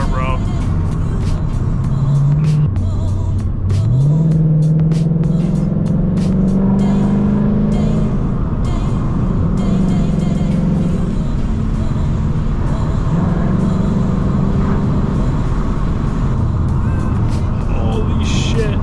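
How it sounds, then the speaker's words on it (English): A Ford Mustang engine revs and pulls through gears while driving on back roads, rising and falling in pitch over steady road and cabin noise, with excited talking inside the car. "I fucking love the sound of this car"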